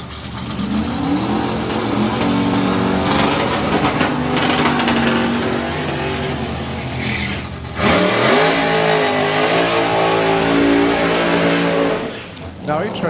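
Fast Company 2 Mustang dragster launching in a drag race run at the FIA Main Event, a loud, rising engine roar that cuts briefly and surges again, with a commentator talking over it.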